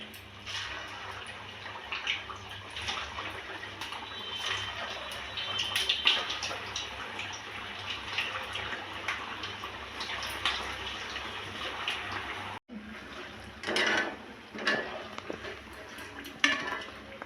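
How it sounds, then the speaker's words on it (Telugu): Rava vadas made from upma semolina fry in boiling oil with a continuous, dense crackling sizzle that runs steadily, drops out briefly, then resumes a little softer. "ఆయిల్ అయితే బాయిల్ అయింది దాంట్లో ఫ్రై చేసుకుందామండి"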